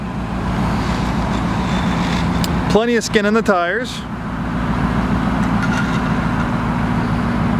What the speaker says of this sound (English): It has a Flowmaster exhaust system, so you really can hear that V8 rumble.